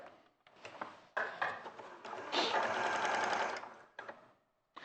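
A sewing machine bastes three layers of fabric together in short runs of rapid mechanical stitching, a close whirring chatter that starts and stops, with one longer steady stretch in the middle and brief pauses between.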